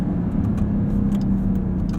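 A 2020 Dodge Durango SRT engine in track mode, heard from inside the cabin as a steady, loud, low-pitched drone with a deep rumble and no speech.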